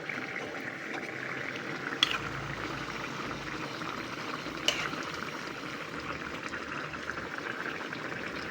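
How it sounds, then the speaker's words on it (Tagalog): Ginataang langka, jackfruit in coconut milk, simmering in a pot, a steady soft bubbling with a couple of light clinks, low and continuous. "Sabi ko nga, malambot na yung langka, kaya konting kulo na lang yan."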